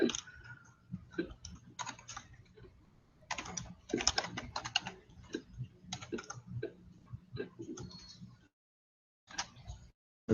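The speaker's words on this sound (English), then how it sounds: "I'm having trouble typing." Someone types on a computer keyboard while writing code, quick bursts of clacking keystrokes with short pauses, close and clear, then a moment of silence.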